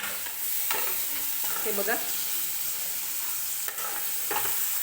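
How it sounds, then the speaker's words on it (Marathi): Onion and finely chopped garlic fry in oil in a close, continuous sizzle, while a utensil scrapes and stirs at intervals. A brief voice speaks over the cooking. "आणि व्यवस्थित कांदा जो आहे तो गोल्डन रंग येईपर्यंत तेलामध्ये फ्राय करून घ्यायचा आहे"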